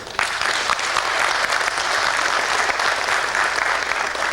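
Sustained audience applause for the performing group Grupo Centro at a Black community gathering in Greater Porto Alegre, a dense, steady wash of many hands clapping at close range from start to finish.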